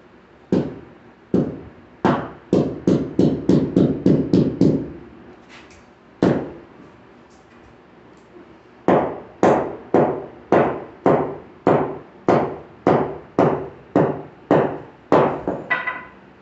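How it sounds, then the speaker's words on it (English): An 8-pound sledgehammer strikes coated copper wire again and again, giving sharp, loud, close impacts in quick bursts, a pause, then another evenly spaced run of about a dozen blows, with no talking. "This is an 8-pound sledgehammer."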